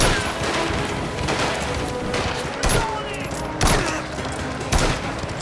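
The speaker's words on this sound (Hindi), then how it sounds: "हमारे पास गोलियां इस समय इन्फिनिट हैं भाई, जितनी हम मर्जी चलाते रहें।" Rapid gunfire in the Mafia: The Old Country video game during a horseback chase, with repeated sharp shots and bursts over a busy background of game noise.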